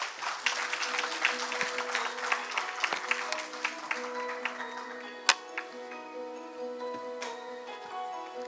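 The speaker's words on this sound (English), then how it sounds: "Please give her with a warm applause to the stage" An audience at a world congress applauds to welcome a journalist onto the stage, a burst of scattered clapping that thins out and trails off into sparse claps.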